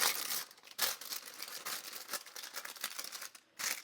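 Parchment baking paper being folded and creased in a frying pan, giving close crinkling and crumpling rustles that run nearly continuously, with a brief pause near the end.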